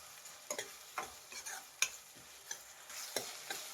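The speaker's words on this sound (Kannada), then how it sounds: "ಈಗ ಟೊಮೆಟೊ ಹಾಕ್ತಾ ಇದ್ದೀನಿ, ಸಣ್ಣದಾಗಿ ಕಟ್ ಮಾಡಿರೋವಂಥದ್ದು." Finely chopped tomato fries in a pan for restaurant-style chicken masala, with soft, steady sizzling and repeated light scrapes and taps of a stirring spoon, close and fairly quiet.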